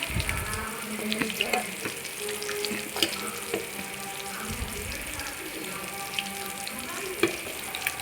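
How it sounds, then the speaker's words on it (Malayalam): Small tuna coated in ginger-garlic masala fries in coconut oil, with a steady close sizzle and scattered crackles and pops throughout. "ചൂര മീൻ ചെറിയ ചൂരയാണ് കേട്ടോ നല്ല സ്മെല്ല് വരുന്ന കേട്ടോ ഇഞ്ചി വെളുത്തുള്ളി മസാലേൻ്റെയൊക്കെ സ്മെല്ല് നല്ലോണം വരുന്നു വെളിച്ചെണ്ണയിലാണ് കേട്ടോ ഫ്രൈ ആക്കുന്നു"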